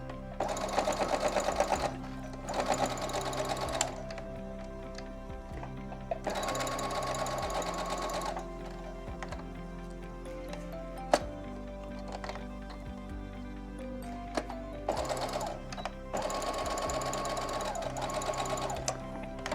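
A sewing machine runs in loud, steady bursts while stitching fabric for a see-through face mask, stopping and restarting several times with a constant motor hum between runs.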